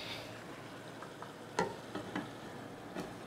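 A pot of tomato soup simmering on a stove, giving a faint, steady bubbling hiss, broken by a few soft clicks and taps near the pot, with no one talking.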